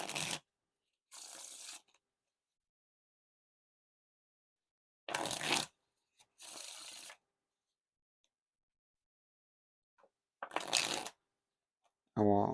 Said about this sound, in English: Now for the wiffle shuffle or bridge shuffle.